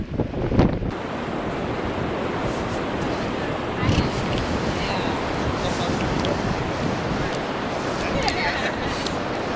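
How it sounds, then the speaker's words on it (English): Ocean surf rolls onto a beach in a steady, loud wash, heavy wind buffeting the microphone throughout, with a gust-like burst near the start and people talking faintly underneath. "Out on the beautiful beach."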